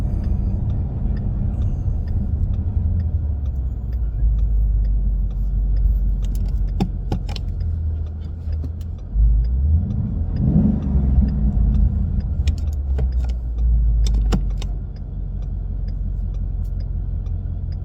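Inside a 2017 Ford Mustang GT with a stock Coyote 5.0 V8, H-pipe and axle mufflers: a steady, loud low exhaust rumble fills the cabin, swelling briefly with a rev midway before settling back to a deep drone.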